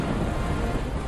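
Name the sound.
torrential rain and thunderstorm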